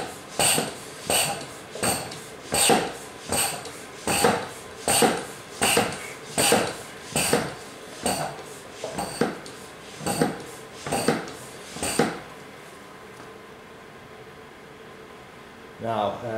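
Hand pump drawing thick engine oil through a suction tube from a VW 1.9 SDI diesel, about fifteen regular strokes, each a close, breathy wheeze with a light clunk, stopping near the end to leave faint background hiss.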